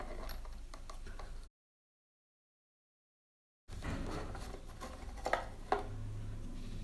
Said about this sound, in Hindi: ये वाला जो इसका स्क्रू है आपने खोल लेना